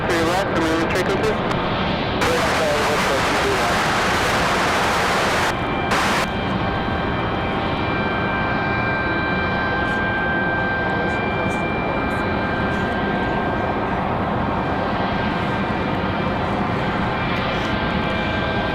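An airplane on final approach at Raleigh-Durham International Airport drones steadily at a distance, with a loud burst of noise early on and people talking over the engine sound.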